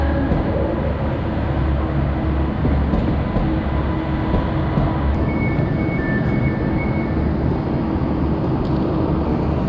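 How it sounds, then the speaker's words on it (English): TransPennine Express train travelling from Carlisle toward Glasgow Central, heard from inside the carriage as a steady loud rumble of wheels and rails, with a brief faint tone partway through and no talking. "Welcome to this TransPennine Express service to Glasgow Central."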